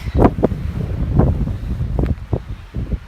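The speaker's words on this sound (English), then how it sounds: "Super windy out here." Gusty wind on the shore of Georgian Bay buffets the microphone in low rumbling bursts, with a few sharper thumps and rustles mixed in, close and fairly loud.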